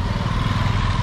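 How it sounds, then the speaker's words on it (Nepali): Motorbikes pass close by near a school grounds, their engines a loud, steady, throbbing drone that fills the whole moment. "बाइकहरु फुल्दु आउँदै छ है यताबाट"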